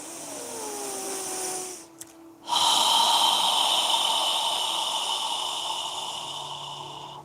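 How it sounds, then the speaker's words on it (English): A long, steady breath pushed out through an open mouth during a yoga session, a soft breathy hiss heard close up, briefly broken by a pause and a small snort before the airy exhale swells and slowly fades. "exhale through your mouth. Imagine you're fogging a mirror with your breath."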